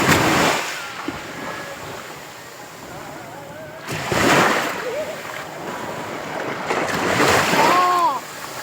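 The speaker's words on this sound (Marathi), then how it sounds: "लाट आली." Ocean waves breaking on a shore on the Konkan coast, arriving in three loud surging washes with wind noise between them, and brief voices heard near the end.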